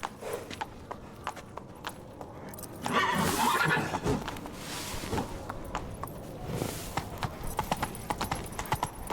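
Roach, the horse in The Witcher 3, pounds along in rhythmic hoofbeats at a quick gait over game ambience, with occasional snorts and a brief voice in the background.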